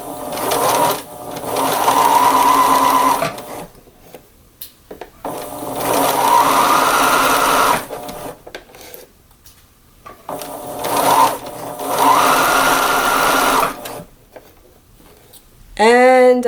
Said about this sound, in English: and then I'm going to sew them together.